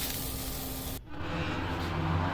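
Chilies sizzle lightly in a hot pan, green and dried together. There is a steady hissing fry with a brief dip partway through, then the sizzle resumes close by.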